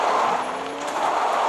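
A car engine in Fortnite roars steadily at high revs, loud and close, with a faint tire-squeal edge.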